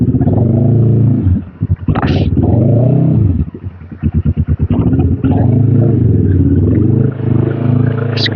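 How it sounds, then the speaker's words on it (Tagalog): A motorcycle engine being test-run close by, loud and rough with repeated revving, a brief stutter of rapid pulses in the middle, then steady idling roar. "Testing natin yung motor niya."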